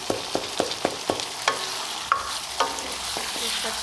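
Chicken fries in masala for a chicken karahi while a spoon stirs it, a steady sizzle broken by regular sharp taps and scrapes against the pan, close and clear with no speech.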